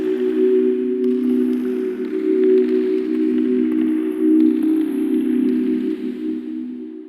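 A Serum pluck soundscape built from a tonal noise oscillator: a dense, sustained low-mid drone with a washy, rain-like noisy texture above it, steady and loud throughout with gentle swells and no voices.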